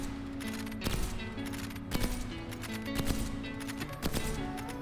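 A sniper rifle in Call of Duty Cold War fires a full magazine dump: about five sharp, loud shots spaced roughly a second apart, each ringing over steady game background tones.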